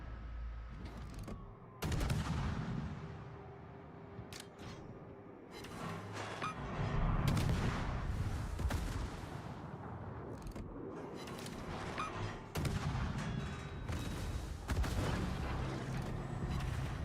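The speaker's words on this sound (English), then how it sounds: "Machine guns hurt." Rapid gunfire and heavy booms from naval combat in World of Warships, a dense, continuous barrage of shots and explosions running throughout at close range with no voices.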